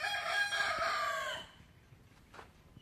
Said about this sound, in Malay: ditemani ayam kampung.